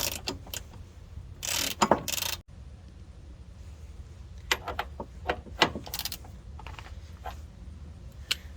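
Ratchet wrench tightening a castle nut on a vehicle steering component, heard as bursts of quick metallic clicking with pauses between strokes, close and moderately loud.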